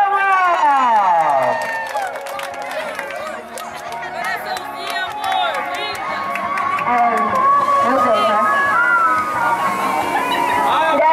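Birthday party guests in Cidade Tiradentes cheer and clap in a loud, continuous burst, with many raised, overlapping voices shouting throughout.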